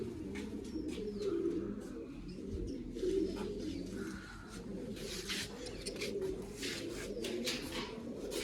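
Pigeons coo in a steady low murmur at close range while feeding on grain in their loft during summer, with faint chirps and scuffling above the continuous cooing.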